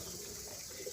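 Pigeons coo softly as they are bathed on a hot day, a faint, low murmur of calls that lasts only a moment, with no talking.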